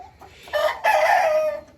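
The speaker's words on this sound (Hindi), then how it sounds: "इस मुर्गे का शौक़ करें" A young Naulakha rooster of about 2.3 to 2.4 kg gives one loud, close crow, a short lead-in followed by a long drawn-out call that fades at the end, with no voices.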